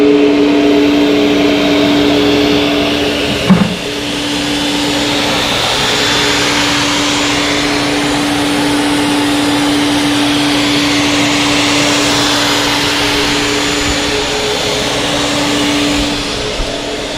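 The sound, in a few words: CNC shaper spindle carving a wooden logo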